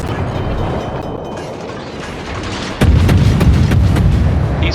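Ship guns fire in a naval video game, a low rumbling background broken by a sudden heavy boom that leaves a loud, sustained roar with sharp cracks layered over it.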